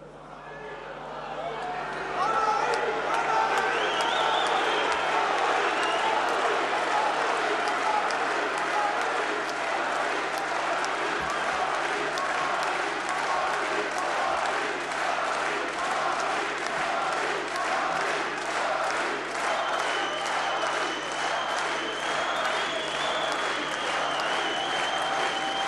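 Sustained applause and cheering from a large audience at a political congress in Tours, swelling after a couple of seconds into a dense, loud wash of clapping and shouts that continues without pause.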